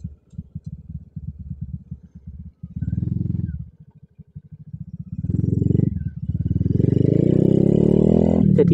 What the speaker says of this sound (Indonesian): Jadi ketika ditarik gas, bukan dominan suara karburator ngoknya, tapi dominan di suara knalpot.